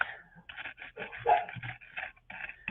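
A puppy pants quickly and lets out thin whimpers, close by, in short uneven bursts.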